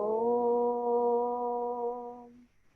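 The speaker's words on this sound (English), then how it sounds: "So this ektara, it is having one sound" A single plucked ektara string rings out as a steady, sustained drone with rich overtones, holding for about two seconds before fading.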